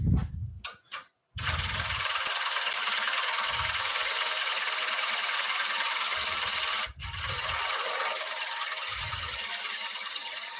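A small bowl gouge hogs out the base of a wooden bowl on a lathe, a steady close rasping scrape broken by brief pauses and short low thumps.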